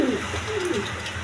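A male Beauty pigeon at a breeding farm gives a soft, close coo, one brief rolling phrase with no voices.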